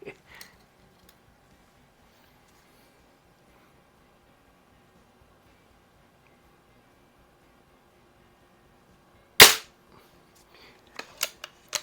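Vintage Daisy BB guns, a 1978 model and a 1995 499B, fired in a quiet setting: one sharp, loud crack after a long silence, followed by a few fainter clicks and taps.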